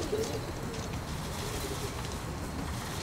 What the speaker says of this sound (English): Hush, little birds